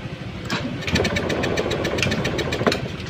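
Starter cranking on a Honda Scoopy fuel-injected automatic scooter with the ignition on, a steady close mechanical churn with repeated faint clicks and brief surges, no clear catch into running.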